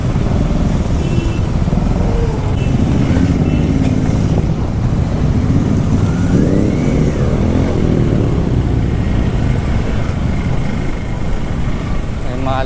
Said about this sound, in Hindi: रॉयल एनफील्ड वाली है सारी बाइक है भाई